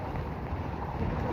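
Strong wind blows across the microphone as a steady, low, rumbling roar, fairly quiet overall, with no voices during the brief moment.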